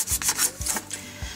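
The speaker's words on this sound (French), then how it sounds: "Je commence par légèrement découper la base plate et large de mon cône." Knife cutting into the flat, wide base of a polystyrene foam cone, giving three short rasping, rubbing strokes close up with brief pauses between them.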